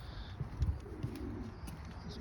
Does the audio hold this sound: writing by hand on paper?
no